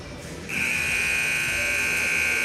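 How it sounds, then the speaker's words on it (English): A loud electronic arena buzzer at a women's volleyball match kicks in after a brief pause and holds one steady, piercing tone to the end. "The buzzer sounds off"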